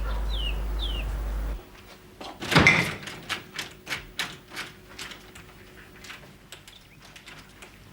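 An indoor door is rattled and then opened, a loud clattering burst of the handle and latch followed by a series of lighter knocks and clicks, with birdsong faintly audible beforehand.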